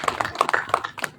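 Scattered hand claps from an audience, a quick uneven patter of separate claps over a bit more than a second.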